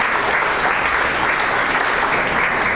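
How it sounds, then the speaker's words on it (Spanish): A church congregation claps together in steady, sustained applause during a worship service, a dense loud wash of hands with no pauses and no talk over it. "Dale una ofrenda de palmas a nuestro Señor."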